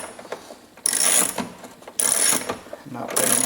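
A ratchet tightens a window regulator bolt inside a C5 Corvette door, giving three loud, close runs of rapid clicking separated by quieter handling noise.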